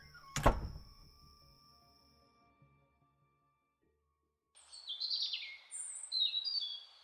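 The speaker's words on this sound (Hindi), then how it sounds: "सुबह पंछियों की चहचहाट से नींद खुली।" Morning birds chirp in several quick, high twittering calls after a dull thunk and a quiet pause, faint and somewhat distant with no talk.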